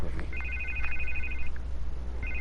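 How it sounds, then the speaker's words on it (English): A telephone rings repeatedly in Batman: The Telltale Series, an electronic trilling bell in two bursts over a steady low background hum, with a voice speaking underneath. "I can't get the phone to stop ringing."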